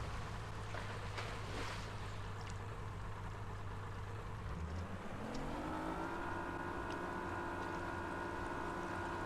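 A powered boat cruising in Fishing Sim World gives off a steady engine drone with wind and water wash. Partway through, the engine pitch climbs and settles into a higher, steady hum.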